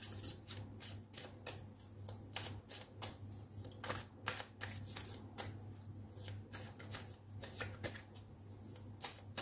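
Tarot cards from the Ethereal Visions deck being shuffled and pulled, a steady run of quick papery riffles and slaps close by, with a low hum underneath and no talking.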